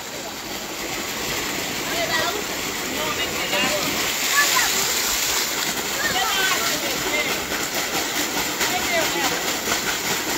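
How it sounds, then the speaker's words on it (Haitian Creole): Water flows and splashes continuously nearby, a loud rushing, churning wash that holds steady from start to finish, with no break in the stream. "On entend de l'eau."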